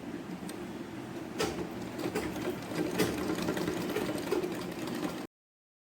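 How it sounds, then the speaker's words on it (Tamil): A sewing machine runs a continuous stitch along the side seam of a blouse sleeve, a steady mechanical whir with light ticking, close and moderately loud before cutting off. "அடுத்த சைடும் ஸ்டிச் பண்ணிடணும்."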